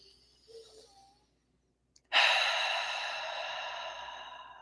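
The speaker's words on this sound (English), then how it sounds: "take a deep breath in and out" A single deep breath: a soft, quiet inhale, a pause of near silence, then a long, loud breathy exhale that slowly fades, close to the listener with no talking.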